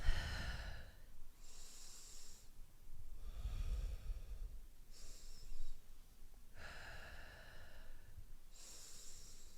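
Slow yoga breathing in a quiet room: long airy inhales and exhales come in steady cycles of about two seconds each, close and soft, with no talk.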